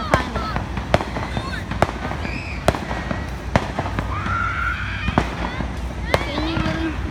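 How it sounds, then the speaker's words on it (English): Fireworks burst as sharp cracks at fairly regular intervals, some loud and some more distant, with whistling trails between them and people talking through the show. "Yo, you saw that big firework?"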